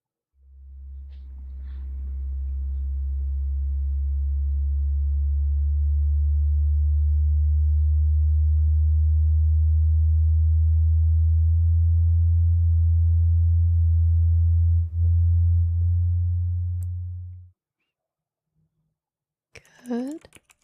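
A single long, steady low-pitched beep from a hearing test plays through headphones for about seventeen seconds, then cuts off abruptly, followed by a few quick chirping blips.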